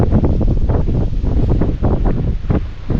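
Strong wind batters a farm, roaring and buffeting close against the microphone in heavy, continuous gusts with no pauses.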